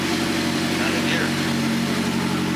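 Engine of a Mazdaspeed 3 running with a Corksport downpipe installed, a steady droning hum at a constant pitch beneath a person talking.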